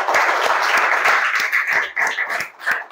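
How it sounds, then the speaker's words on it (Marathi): A lecture-hall audience of students bursts into loud, dense clapping that keeps up for a few seconds as a burst of applause. "जरा सन्मान्य सचिन सरांच्यासाठी जोरात टाळ्या"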